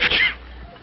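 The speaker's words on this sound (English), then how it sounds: "Stop sneezing." A single short, sharp sneeze, close and loud, fading quickly into quiet.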